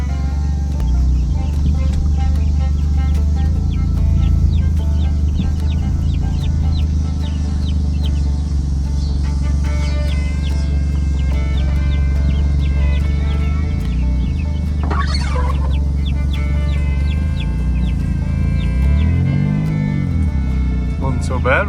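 Chickens cluck steadily inside a newly built coop made from salvaged materials, their calls riding over a constant low rumble and nearby background noise.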